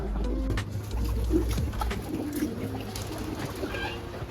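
Racing pigeons in a loft give soft, low cooing calls, several overlapping and close, against a steady low hum and background noise.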